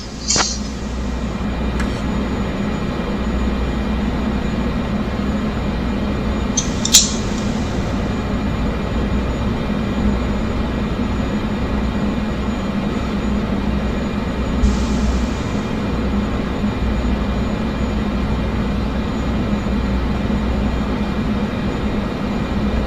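A Cessna 208 Caravan engine at high power in a flight simulator: a loud, steady droning roar that holds constant throughout, broken only by a few brief faint clicks, with no one talking.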